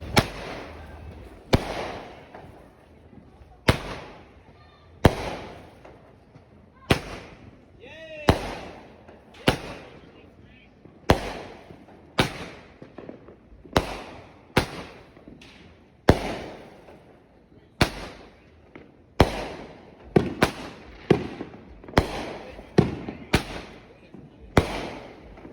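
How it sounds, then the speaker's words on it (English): Shot fireworks on the Fourth of July burst one after another, sharp loud bangs in an irregular rapid series of roughly twenty reports, with people talking faintly between them. "Always do that with shot fireworks."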